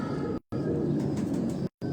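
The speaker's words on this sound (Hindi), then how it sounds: "ये पट्टी हुए कबूतरों का दोस्तों" Domestic pigeons cooing at a loft in a well-known Karachi neighbourhood, a soft steady murmur of birds close by under a broad noisy background, with two short gaps of silence.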